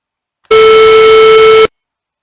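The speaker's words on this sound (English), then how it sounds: "If I instead add white noise" Synthesizer square wave tone layered with white noise, a loud steady hissy buzz held for just over a second that starts and stops abruptly.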